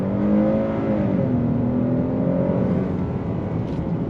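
A 2026 Hyundai Palisade SEL midsize SUV accelerates under throttle, with a steady, loud engine drone that rises smoothly in pitch and holds for several seconds and no talking.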